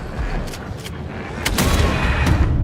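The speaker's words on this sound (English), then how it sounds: "That was the shotgun." Shotgun blasts in the survival-horror video game Alan Wake 2, several sharp booming reports in quick succession, loud and close, with no talk over them.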